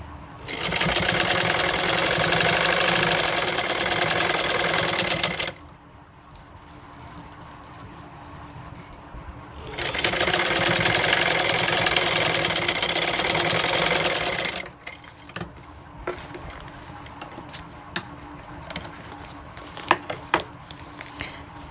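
A sewing machine stitching palazzo pant fabric runs in two long loud bursts of steady whirring, each about five seconds, separated by quiet pauses, followed by scattered small clicks and handling noises.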